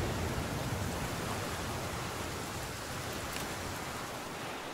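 Rain in the video game The Flame in the Flood falls as a soft, continuous hiss, fairly quiet and even throughout, with no voices.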